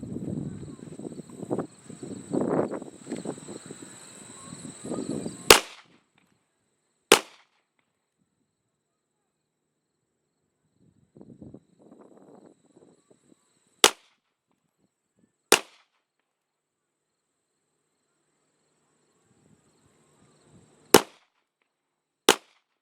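Handgun shots ring out during warm-up shooting drills, six sharp, loud reports spaced several seconds apart, with someone talking in the first few seconds and brief rustling between shots.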